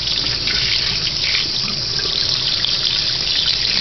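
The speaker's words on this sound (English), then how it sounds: "get a little water going, clean it out" Steady running tap water pours close by, a continuous broadband rush with no voices, used for rinsing freshly caught fish at a First Nation fishing spot.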